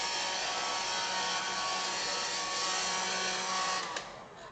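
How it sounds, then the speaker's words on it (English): A steady whooshing hair dryer blows close by, then cuts off near the end. "That's just a regular hair dryer."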